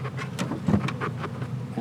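Honeybees buzzing in a steady, dense drone around an open hive during package and swarm work, with scattered nearby wingbeats passing close and a faint voice in the background.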